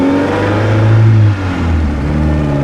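A 1956 Austin-Healey 100-4 BN2 engine revs loudly while driving, a steady mid-pitched drone swelling through the first second before easing to a lower, even hum, with no voices.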